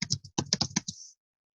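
Typing on a computer keyboard in a short burst of about eight distinct keystrokes in quick irregular rhythm, close and fairly clear, ending in a brief trailing tone, with no talking.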